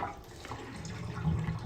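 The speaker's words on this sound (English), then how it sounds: "we are going to do a quick check on the flush here" Water rushes faintly during a flush check on a toilet in a property being inspected, a soft continuous swirl that grows slightly toward the end with no talking.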